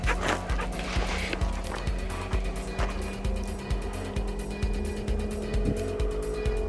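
A dog barks in a rapid repeated run of sharp yips outdoors, close and steady, over a low mechanical ratcheting hum.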